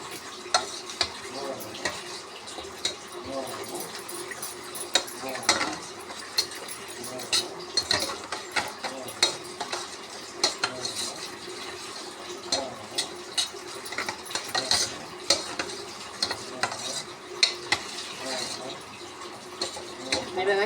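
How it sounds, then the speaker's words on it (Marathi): A whisk or spoon works gram flour (besan) into water in a pot over low heat, breaking up lumps with quick, irregular clicking taps and swishes that continue steadily. "गाठी सगळ्या फोडायच्या तोपर्यंत ताप मंद गॅसवर ठेवायचं"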